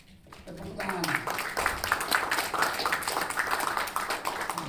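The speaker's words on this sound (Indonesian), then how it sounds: "Tepuk tangan." Applause at a press conference, a dense wash of clapping hands that swells in after a brief quiet start and holds steady and fairly loud to the end, with voices faintly mixed in.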